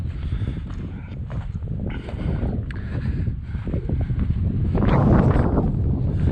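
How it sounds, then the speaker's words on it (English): Wind buffeting a microphone outdoors on a chilly day near rock art in Moab, Utah, steady low rumbling gusts that swell louder toward the end, no talking. "It's wind blowing, you probably be irritating in the microphone on this"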